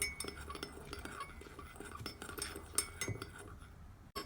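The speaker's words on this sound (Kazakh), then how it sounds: "Шекеріміз ерігенше жақсылап араластырып" A spoon stirring vinegar and sugar together, heard as faint light clinks and soft scraping against the container, quiet and close, with no talking.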